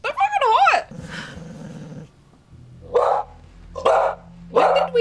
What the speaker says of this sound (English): When did we get a dog?